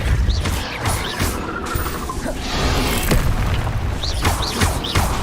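Spell impacts in the Hogwarts Legacy game, including Flipendo, Confringo, Levioso and Depulso casts: loud repeated booms, crashes and whooshing bursts following one another steadily across the stretch.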